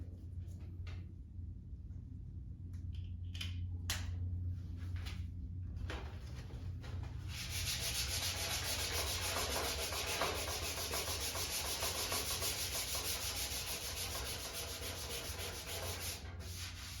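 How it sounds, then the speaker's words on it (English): Sanding down hardened coating on a 2008 Subaru Impreza during a restoration, a steady, close abrasive rubbing that begins softly with a few scrapes and then runs continuously and loud for about ten seconds. "So I'm gonna go ahead and start sanding it down"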